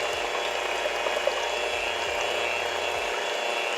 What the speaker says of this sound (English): So we're just gonna beat these eggs on a low speed